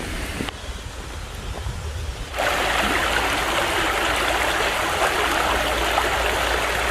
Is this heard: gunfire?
no